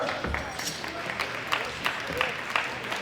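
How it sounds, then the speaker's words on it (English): A crowd applauds a bronze medal winner from Canada at the World Classic Powerlifting Championships 2018 bench press podium, a steady wash of hand claps from a hall audience with a few louder claps standing out. "Big round of applause, Marnell Spencer"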